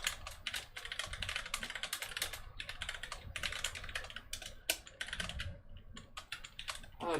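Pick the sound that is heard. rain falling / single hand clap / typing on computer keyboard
typing on computer keyboard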